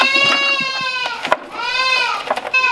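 Baby goats bleat and holler behind a farm gate, loud, overlapping cries with wavering harmonic calls repeating almost continuously, close by.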